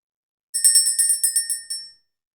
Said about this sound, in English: We're going to ring the bell, clear the energy